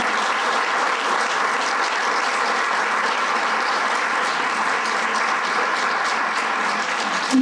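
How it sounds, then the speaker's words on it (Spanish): Audience applause for rehabilitation staff at a World Pulmonary Hypertension Day event, a steady, dense round of clapping filling the whole stretch at even loudness with no voices over it. "porque les queremos dar un aplauso por toda esa labor que ustedes hacen"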